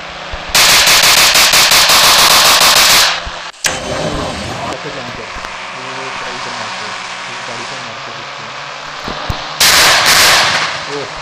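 Rapid automatic gunfire from a mobile driving game, Indian Bike Driving 3D, loud and close in two long sustained bursts at the start and end, with quieter game engine and ambient sound in between.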